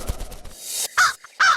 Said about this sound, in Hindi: कौवा, माँ कौवा।